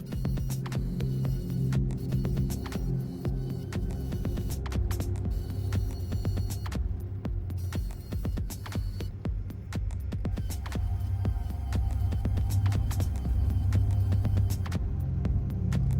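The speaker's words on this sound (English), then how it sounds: "now that I've blended that for several minutes" A blender churning a transparent soap solvent mixture runs continuously as a loud, close motor drone with a pulsing, throbbing low hum, steady from start to finish and no voices.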